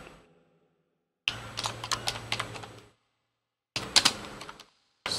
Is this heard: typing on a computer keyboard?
yes